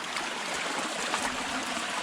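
Creek water flows steadily past a culvert beside moss-covered rock work, making a continuous, even rushing and trickling wash with no breaks.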